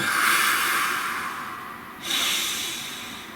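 A single deep breath, heard up close as a long airy inhale that fades and then gives way to a fresh rush of breathy exhale, with no talking.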